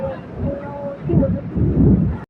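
Heavy rain falls on a village home with thunder, a loud, dense rumbling roar that surges and swells twice over a couple of seconds, close to the microphone, then cuts off abruptly.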